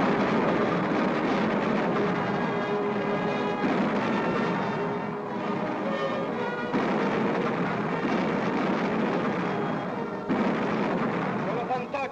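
Dense, sustained booming rumble of heavy artillery cannon fire, loud and continuous with a few brief dips, from a battle scene in a 1952 Western film.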